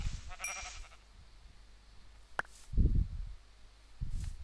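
Sheep in the Minecraft video game bleating, two or three short nasal bleats near the end following a sharp click and faint game sounds, fairly quiet with no talking.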